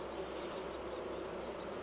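Honeybees hum steadily inside an open hive, a faint continuous buzz with no voices.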